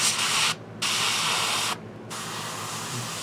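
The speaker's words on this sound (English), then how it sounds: "So I thought I'd show some airbrushing and doing some skin" An airbrush sprays paint onto a hand-sized Reaper Bones hill giant miniature, giving a close, continuous airy hiss that cuts out briefly twice, in two short gaps.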